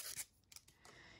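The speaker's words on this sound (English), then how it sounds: "Remove the wrapping from the straw." Close, soft crinkling and tearing of a paper wrapper being pulled off a drinking straw, in a few short bursts with quiet moments between them.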